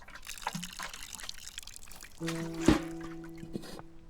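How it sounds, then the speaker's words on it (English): A plant is watered in the video game Botany Manor, liquid pouring and trickling close by, with a tonal chime entering partway through. "Give it some water."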